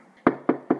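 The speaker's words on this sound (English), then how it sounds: "Knock on wood." Three sharp knocks on wood, evenly spaced and close, sounding alone against a quiet room.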